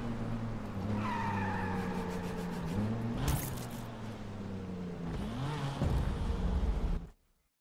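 Genesis coupe tires squeal and skid in a racing video game, engine droning steadily with pitch shifts as it revs and slides, loud and continuous before cutting to silence near the end.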